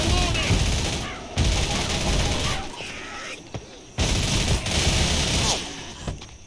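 Video game gunfire in Left 4 Dead: loud, dense bursts of rapid shots from several guns in long sustained volleys separated by short pauses, with voices calling out over the firing.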